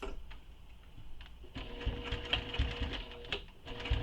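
A sewing machine back-stitches across the top of a quiver sling, running in short bursts of rapid, fairly quiet mechanical ticking with brief pauses between runs.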